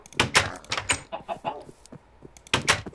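Chickens cluck in a modded Minecraft game, a run of quick, choppy clucks and squawks in irregular bursts, fairly close, with a short lull before a final burst.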